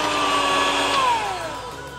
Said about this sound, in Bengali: হ্যান্ড ব্লেন্ডারে আমি একটু মিশিয়ে নিচ্ছি।